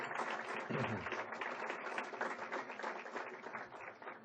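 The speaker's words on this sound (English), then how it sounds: "How about a big round of applause for everyone?" Audience at a high school district foundation's superintendent's breakfast applauds, a short burst of close, dense clapping that holds steady before easing slightly.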